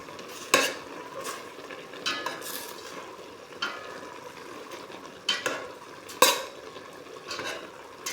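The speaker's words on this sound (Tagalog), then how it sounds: "Haluin natin." A utensil scrapes and clatters against a pan while squid and cabbage are stirred and sautéed. Irregular sharp clinks sit over a soft steady sizzle, close by and with no talking.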